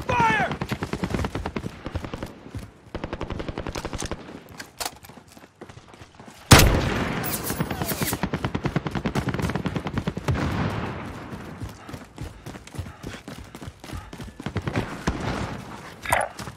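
Gunfire in the Warzone battle royale shooter: loud, rapid automatic bursts crackle close by, broken by short pauses, with one sharp, heavy blast midway, followed by more sustained firing.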